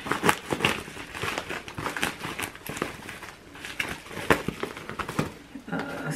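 Crinkly plastic packaging of an Ipsy beauty subscription parcel rustles and crackles as it is cut open, with steady crinkling bursts up close and brief quiet talk around it.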